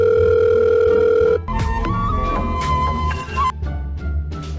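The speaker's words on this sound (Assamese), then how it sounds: "লাগিছে দে ফোন কৰিছে।" A telephone sounds a steady, unbroken electronic tone for about a second and a half, then gives way to a busier mix of background tones and music.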